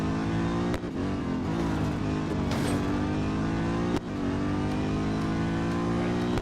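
Steady, loud engine drone of a bulky car racing in Real Racing 3, a continuous harmonic roar with brief dips around gear changes and no one talking over it.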